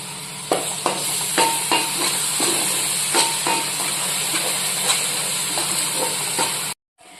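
Tomato puree frying with masala paste in hot oil for a fish curry gives a steady, close sizzle, with stirring scrapes landing about every half second until it cuts off near the end.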